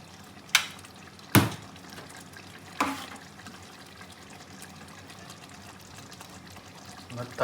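Water pours and drains off cooked rice for mutton biryani, a close splashing trickle with a few sharp clanks of a pot, while a person talks throughout.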